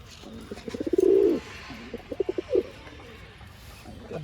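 Pigeons coo close by in bursts, a rolling low call followed by several short throaty coos, with quiet pauses between.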